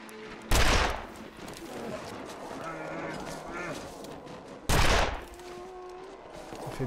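Two loud, close gunshots ring out in The Long Dark, one near the start and another about four seconds later, each cracking sharply before decaying over low ambient game sound.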